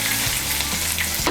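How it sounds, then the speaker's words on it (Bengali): Katla fish pieces fry in hot oil in a pan, giving a close, steady crackling sizzle with no talk. "এখন আমি মাছগুলোকে লাল করে ভেজে নেব।"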